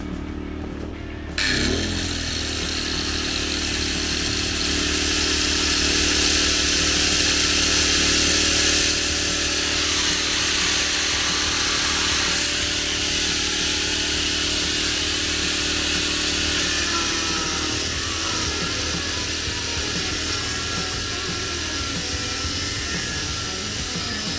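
A Dnipro-M petrol generator running at maximum revs: after a brief start-up the engine settles into a loud, steady, rough drone that holds unbroken to the end, with no voices.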